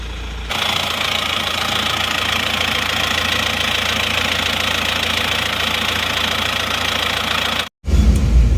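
A warmed-up Isuzu Panther diesel car engine idles steadily up close, a continuous rough knocking rumble that runs unchanged, then briefly cuts out before resuming louder at the end.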